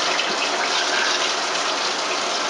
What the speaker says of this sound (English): and let it just flush out the tube.